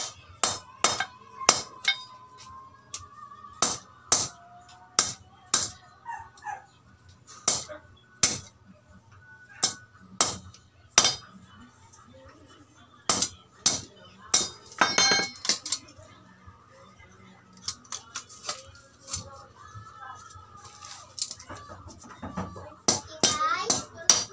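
Sharp metallic taps from manually hammering a damaged spin motor case to loosen it, struck one by one in irregular bursts up close, with quieter clinks between blows and no speech over them.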